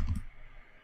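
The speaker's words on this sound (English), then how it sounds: "holding down the shift key and just simply clicking" A single crisp computer mouse click with the shift key held, heard at the very start during 3D modeling work in Maya, followed by quiet room tone.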